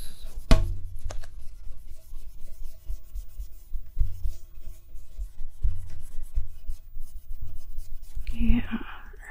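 A paintbrush mixes blue and white paint on a palette in close ASMR style, making steady soft scrubbing and rubbing strokes with faint whispering underneath.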